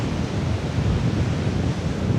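Ocean surf and wind on the flat sandy shore of Maspalomas beach, Gran Canaria, as a steady, dense roar of breaking waves blended with buffeting wind noise across the mic, with no voices.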